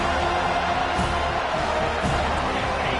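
Football stadium crowd roaring and cheering after a touchback in a home stadium, a dense, sustained wall of noise with a few louder swells.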